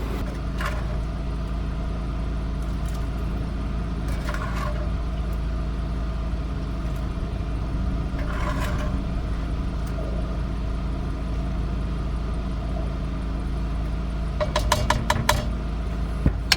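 A portable generator hums low and steady at a vanlife campsite while charging the van's batteries, with a few scattered clinks of dishes and cookware over the continuous drone.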